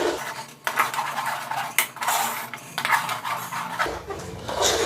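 A spoon scrapes and clinks against a metal cooking pot while moong dal pakoda curry with tomato paste is stirred, giving repeated close, bright metallic knocks over a low hiss.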